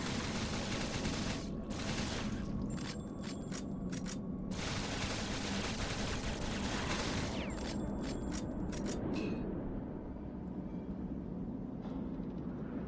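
Pistol and machine gun fire in the Shadowgrounds: Survivor video game, dense rapid bursts of gunfire over a steady rumbling backdrop, with short gaps between bursts before fading near the end.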